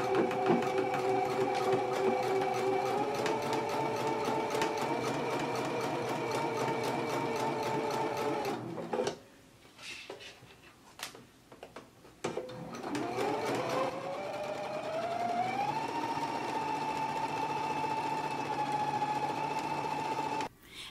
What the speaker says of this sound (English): go to the machine and we can stitch at a 5/8 of an inch seam allowance all the way along this side